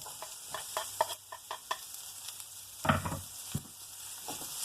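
Onion and chopped celery frying in a pan, stirred with repeated scraping strokes over a low steady sizzle, close and fairly loud, no voices.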